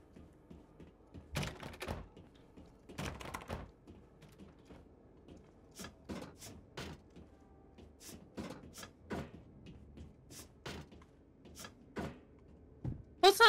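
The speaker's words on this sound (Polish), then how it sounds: "fajny, creepy dźwięk wydają te drzwi, jak je próbujesz otworzyć" Creaking, thudding door in the horror game Devour rattles repeatedly as someone tries to open it, a series of short knocks and clunks spaced irregularly, fairly quiet and close, with no talk over it.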